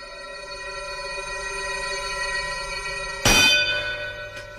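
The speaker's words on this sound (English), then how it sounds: "All right, ring the bell." A boxing ring bell clangs once, loud and close, ringing out with a long sustained tone and then struck again briefly near the end, with no talk.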